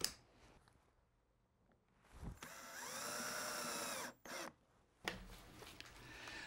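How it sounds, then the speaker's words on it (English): A power drill whirs in a sustained burst while drilling a pilot hole, rising in pitch as it spins up, with short bursts and handling noises before and after. "for drilling any pilot or clearance hole"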